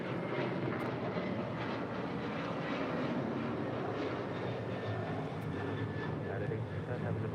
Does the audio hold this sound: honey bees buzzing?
no